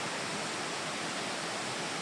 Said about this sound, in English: I'm assuming with a waterfall.